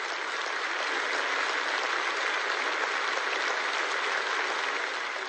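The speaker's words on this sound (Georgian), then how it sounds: "ეს იყო სოლიდარობის აპლოდისმენტები, რომელმაც 40-მდე ქვეყნის გულშემატკივარი გააერთიანა." A large audience at a figure skating world championship in Montpellier applauds in a dense, even roar of clapping that holds steady and loud throughout, with no single claps standing out.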